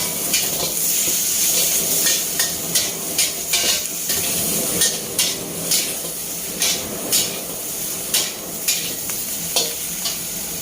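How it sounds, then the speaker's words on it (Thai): Cabbage stir-fried fast and hard in a pan with fish sauce sizzles steadily while a spatula scrapes and knocks against the pan in quick, regular strokes close by. "ผัดเร็วๆแรงๆนะคะ"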